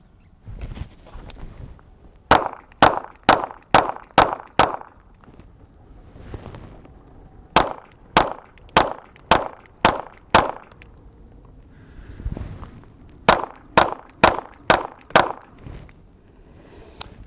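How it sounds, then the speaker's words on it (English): Shots from a SIG P938 micro compact pistol fired in three quick strings of five or six rounds each. The reports are loud and sharp, with short pauses and faint outdoor background noise between the strings. "let's put some rounds down range and let you see how it works in practice"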